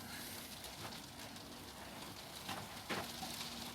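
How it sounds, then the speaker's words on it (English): Rain falls steadily on an allotment garden in the UK, a soft, even hiss with no voices, faint and continuous throughout. "It started raining again."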